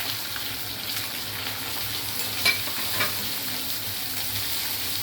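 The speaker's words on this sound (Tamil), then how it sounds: "இந்த வெங்காயத்தை அதை ஆட் பண்ணி நல்லா வதக்கணும்" Chopped onions sauté with salt in a hot pan for rava upma, giving a steady close sizzle with a few soft stirring scrapes and no talking.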